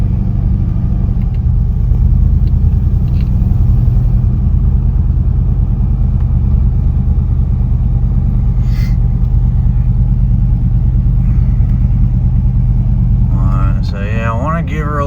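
An LS-swapped Chevrolet C10 truck rumbles loudly and steadily from inside the cab while driving, its engine droning low throughout with a brief spoken voice near the end.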